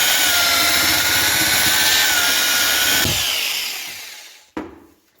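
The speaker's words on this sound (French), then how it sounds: "la perceuse, le moteur de la perceuse pour mélanger, j'ai senti qu'il a bien souffert et bien chauffé" A power drill with a mixing paddle churns thick, lumpy multi-purpose filler compound in a bucket, a loud strained whine for about three seconds, then winding down, followed by a single sharp knock.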